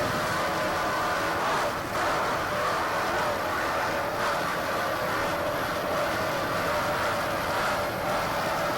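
Race cars at the 1988 KW World Cup roar past in a continuous, loud engine blare with small swells and dips, steady throughout with no talk.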